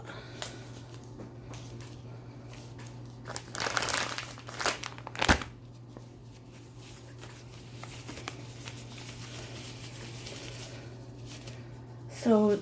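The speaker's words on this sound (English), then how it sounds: "I'm going to put on protective gloves" Disposable protective gloves being pulled on before cutting meats in a home kitchen, giving soft plastic crinkling and rustling bursts, loudest in the middle of the stretch, over a steady low hum.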